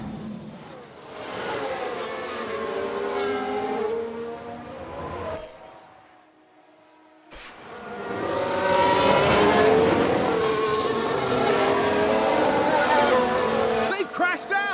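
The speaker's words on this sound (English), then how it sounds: "They've spun their car." F1 Manager 22 race car on a 1991-season circuit, engine note wailing and shifting as the car spins off the track, dropping out briefly before roaring loud again, with commentary voices over it.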